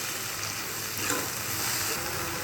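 Fenugreek leaves are mixed into a potato and tomato curry in a hot pan, with a steady, close sizzle and a faint scraping stir.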